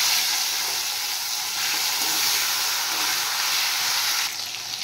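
Tomato dropped into hot oil already holding dried red chilli, bay leaf and cumin seeds, giving a loud, steady sizzle and hiss that carries on without a break and eases off slightly near the end, with no talking.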